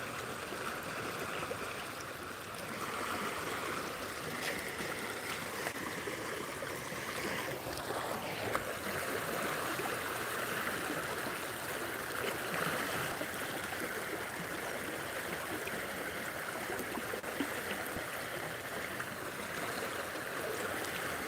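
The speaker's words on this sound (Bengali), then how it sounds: "সর্বোচ্চ গতিতে পানি" Fast-flowing river water carrying stones rushes past in a steady, dense roar that never lets up, with no voices.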